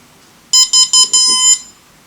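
Four quick electronic beeps, the last one held longer, bright and tonal, as a Simtoo Dragonfly Pro drone powers up and initialises, with faint background noise.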